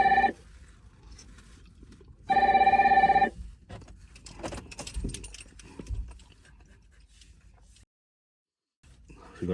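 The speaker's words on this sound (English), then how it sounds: "someone's ringing me now" A phone rings in two electronic bursts, a short one at the start and a longer one a couple of seconds later, followed by quieter background noise.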